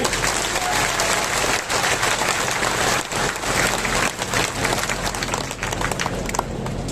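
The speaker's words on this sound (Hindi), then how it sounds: "जोरदार तालियों से स्वागत किया जाए।" Dense, loud crowd applause at a political speech by a Pradesh Congress Committee member, held in memory of a late leader. The clapping continues without a break throughout.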